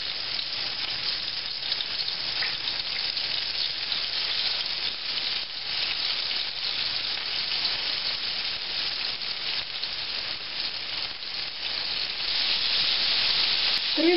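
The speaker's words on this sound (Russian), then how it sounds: "На разогретую сковороду с маслом растительным мы укладываем обжаривать нашу рыбку минтай" Breaded pollock fillets frying in hot vegetable oil in an uncovered pan, giving a steady, close, dense sizzle and crackle that runs unbroken throughout with no talk.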